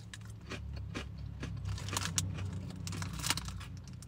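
Crunchy Lidl crackers from an Italian food range being bitten and chewed close up, with repeated sharp crisp crunches at a steady chewing rhythm over a low background hum.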